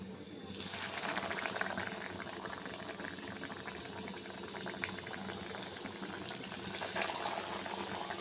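Cookie biscuits frying slowly in a little oil, a dense, even bubbling hiss that runs throughout with small pops and crackles scattered across it.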